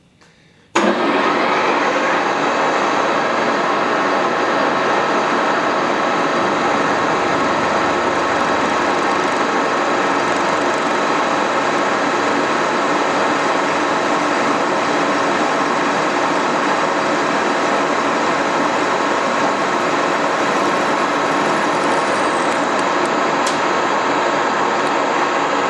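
A metal lathe running with a parting tool cutting off a workpiece, giving a loud, continuous whirring hum that starts abruptly and holds steady, with no voices.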